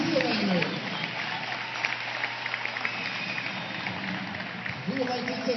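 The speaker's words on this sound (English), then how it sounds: "Let's have a round of applause for Hiram Dutch Uselaner." An audience applauds at a university athletics hall of fame induction, with a steady, muffled wash of clapping from a large hall and a voice talking briefly at the start and again near the end.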